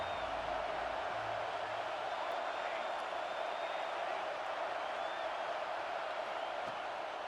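Stadium crowd noise from the College Football 26 video game, a big crowd in Happy Valley on third down, heard as a steady, dense roar that holds evenly for several seconds at a moderate level.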